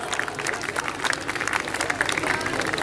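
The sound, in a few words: audience applause at school annual function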